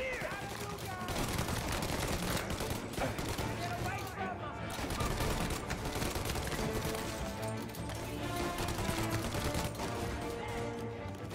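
Sustained gunfire in Mafia: Definitive Edition during a shootout involving police, dense rapid shots and bursts that run continuously at moderate loudness, with someone talking over them.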